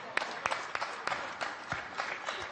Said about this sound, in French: Venez, applaudissez-le un peu.